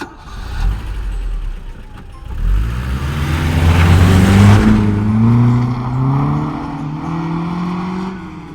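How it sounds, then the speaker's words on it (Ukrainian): A passenger car engine starts and revs, its pitch rising and falling through a few accelerations, fairly close and loud. "Це легковий автомобіль."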